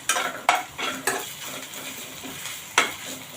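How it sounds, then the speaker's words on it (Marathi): A potato mixture with green chillies stirred in oil in a pan, a few scraping spoon strokes over a soft sizzle, quiet and close with no talk. "आता आपण हे सर्व मिक्स करून घेऊया थोडा वेळ याला तेलावर परतून घेऊया"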